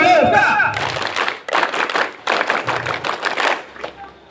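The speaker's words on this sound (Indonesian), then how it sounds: "Tepuk pramuka." Scouts at an East Lombok elementary school scout competition give a rhythmic group clap, sharp clustered bursts in a patterned beat, loud and close, after a brief voice at the start.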